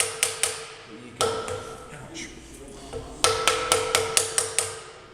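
Metal struck with a hammer over a stake, shaping a piece around a form: sharp ringing taps in quick clusters, a lone heavy blow, then a steady run of about seven close, loud strikes with brief pauses between bursts.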